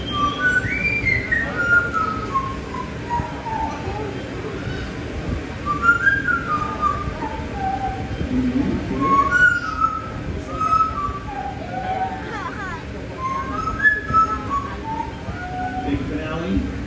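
A parrot performs repeated whistles, short rising and falling notes in bursts, during a bird show at an aquarium, with a crowd murmuring and a presenter talking in the background.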